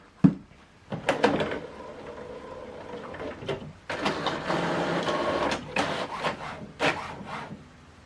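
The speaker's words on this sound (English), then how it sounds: "This document is printing." An HP OfficeJet Pro printer runs a document through, with a sharp click, then whirring paper feed and print-head passes in several bursts and pauses, close and fairly loud.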